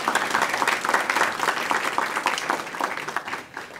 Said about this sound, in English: please give Ted a round of applause.